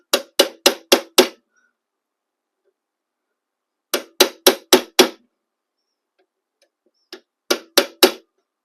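Hammer strikes staking an AR-15 castle nut into the receiver end plate: three sharp metallic bursts of four to five quick, evenly spaced taps each, close and loud, separated by silence.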